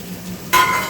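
Carrots hit a hot pan of frying vegetables for pav bhaji, a soft low sizzle suddenly jumping into a loud, bright hiss, close up with no talking.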